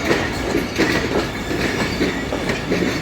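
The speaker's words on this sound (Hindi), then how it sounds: "ऐसा ऐसा रेल कार ने अपनी रफ्तार को पिक करना शुरू कर दिया" A rail car train, led by GU20, gathers speed on the Sialkot–Wazirabad line: a close, steady rumble with repeating clickety-clack wheel beats and a faint high squeal over the rails.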